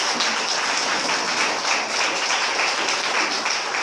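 A congregation applauds during a church service on Exodus 14, soft uniform clapping spread across a large room, steady and moderately distant with no voices over it.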